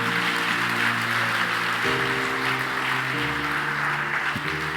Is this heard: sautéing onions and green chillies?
no